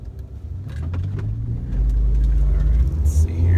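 A Nissan Altima that is down on power accelerates hard through the gears, its engine rising to a loud, low-pitched rumble close by, with a brief shift break partway through.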